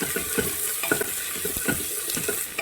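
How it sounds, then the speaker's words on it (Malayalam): Onions sautéing with crushed ginger and garlic in a pan, stirred in quick, uneven scrapes over a soft wet sizzle; brief, close and without voices. "ഇതിലേക്ക് നമ്മൾ അന്നേരം ചതച്ച് ഇഞ്ചിയും വെളുത്തുള്ളിയും കൂടെ ഇട്ട് കൊടുക്കും എന്നിട്ട് അതും കൂടി ഇതിൻ്റെ കൂടെ നന്നായിട്ട് മിക്സ് ചെയ്യണം"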